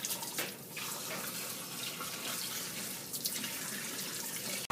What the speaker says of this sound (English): Always clean your graduated cylinders with test tube brushes and water